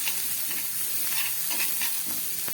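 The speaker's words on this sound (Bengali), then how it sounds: "এবার দিয়ে দিচ্ছি একটু বাটার মশলাটা ভাজার জন্য।" A spice mix with ginger and chopped green chilli fries in butter for a potato-and-pea puri filling, producing a steady close sizzle with soft stirring scrapes.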